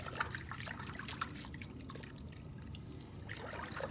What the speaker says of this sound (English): we're going to just pour it in our bucket of warm water